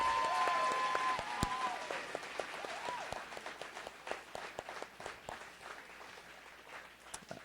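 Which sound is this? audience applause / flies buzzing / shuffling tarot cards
audience applause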